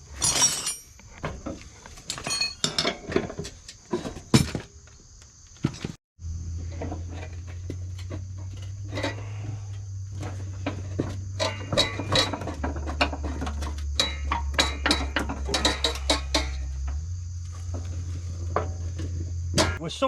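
Metallic clinks and taps from a wrench working a nut loose on a mower under repair, scattered and irregular, with a steady low hum running underneath from partway through.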